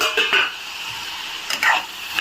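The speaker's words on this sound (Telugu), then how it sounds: "ఇది బాగా మెత్తబడేంత వరకు వేగనిద్దాము" Beetroot sizzles softly in a pan as a utensil stirs and scrapes it in a few brief strokes, close by.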